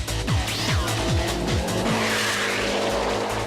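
A Subaru STI racing on a track, its engine revving hard with rapid gear shifts and tires squealing through a corner, loud and close.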